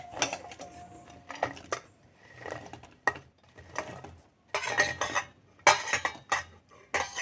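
Boiled gulab jamuns go into a pot of sugar syrup with a string of close metallic clinks and scrapes of a spoon against the pot, in irregular bursts separated by short quiet gaps.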